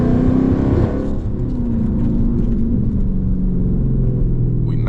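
Dodge Challenger or Charger Scat Pack with the 392 engine driving in early morning traffic, a steady loud low engine rumble and road drone throughout with slight revving, close and continuous, no talking.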